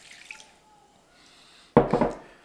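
A cup of water is poured into a container during a Sham Wow absorbency test, a faint trickle first, then a sudden loud splash as the bulk of the water hits and sloshes briefly.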